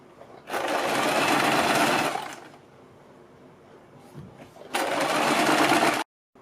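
Sewing machine stitching the neckline of a kurti, running in two loud, steady bursts of rapid whirring separated by a quieter pause in which the motor idles low.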